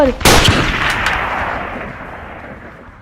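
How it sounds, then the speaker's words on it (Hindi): A loud gunshot blasts out and echoes away, followed by a couple of quieter cracks as the reverberation fades. "अचानक से फायरिंग शुरू हो गई। गोलियों की बरसात हुई।"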